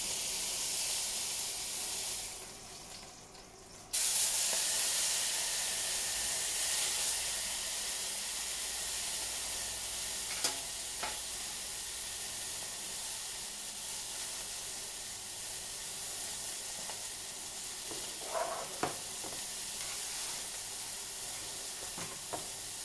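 Venison leg from a deer being seared on all sides in a hot pan, a steady broadband sizzle that runs throughout, briefly dipping near the start, with occasional small pops and spatters.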